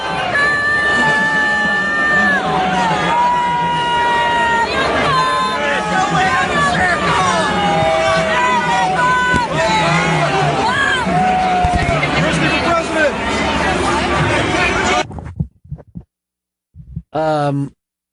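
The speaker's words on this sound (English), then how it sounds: "he starts getting the shit booed out of him" A racetrack crowd boos him loudly, a sustained wall of jeering voices and whistles that carries on for about fifteen seconds before cutting off abruptly.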